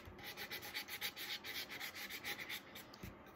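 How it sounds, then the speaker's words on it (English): Hand sanding lightly over an epoxy-coated tumbler, a soft rhythmic rasping of back-and-forth strokes in even pulses, close and quiet, with no voices. "And I'm lightly sanding."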